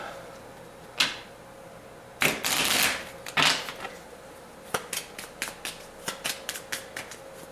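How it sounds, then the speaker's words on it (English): A deck of cards is riffled and bridged close up: a few sharp flutters, then a quick series of crisp snaps and taps. "I gotta shuffle this deck because of the friendly event card."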